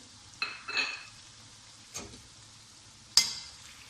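Tomatoes and green chilies dropped into a pan of fried mutton and stirred, with a few brief spoon-and-pot clatters and scrapes, one sharp metallic knock near the end, over a faint low sizzle.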